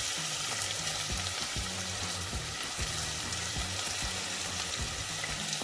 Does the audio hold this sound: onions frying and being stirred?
yes